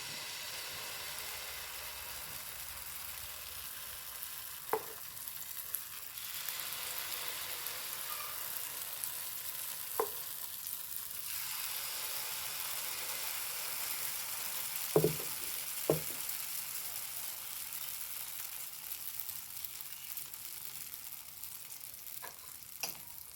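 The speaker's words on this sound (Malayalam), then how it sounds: "ഞാൻ മാവ് ഒഴിച്ചു കൊടുക്കണേ പരത്തൊന്നും വേണ്ട കേട്ടോ ഇങ്ങനെ ഒഴിച്ചു കൊടുത്താൽ മതി" Snack batter poured into a hot pan and frying with a steady broadband sizzle throughout, a few brief clicks and scrapes of a utensil punctuating the hiss.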